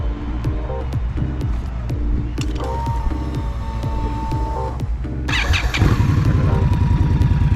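An Indian Scout Bobber motorcycle engine being started: a steady mechanical churning with rhythmic pulses, then the engine catches and grows noticeably louder and fuller toward the end, close by with no talking.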